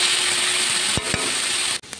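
Cabbage with onion and green chilli frying in a pan, a steady broadband hiss of sizzling with a few brief scraping stirs, close and fairly loud throughout.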